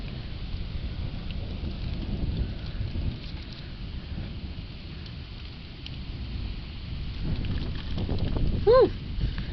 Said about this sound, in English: First thunderstorm of the year, and it's a doozy.